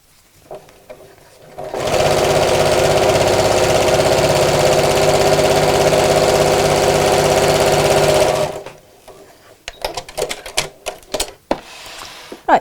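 A domestic sewing machine stitches along the second half of a zipper on a fabric makeup organizer, running steadily and loudly for about six seconds before stopping, followed by handling clatter.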